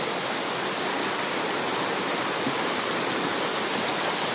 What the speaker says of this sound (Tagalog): palakas na palakas yung tubig